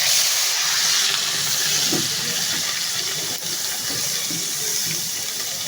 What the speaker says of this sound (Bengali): এখন দিয়ে দিব পেঁয়াজ আর রসুন বাটা।